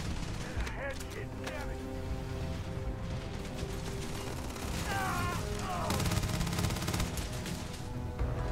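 Turret gunfire in the space game Starfield comes as rapid repeated bursts and sharp cracks over a dense, steady battle din, with chirping synthetic tones sweeping through partway.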